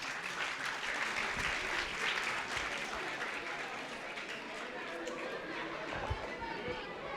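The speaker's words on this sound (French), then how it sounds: "Merci pour les applaudissements." Sustained applause from an audience at a French Red Cross demonstration of stretcher handling, a steady dense patter of many hands clapping throughout, with some crowd chatter mixed in.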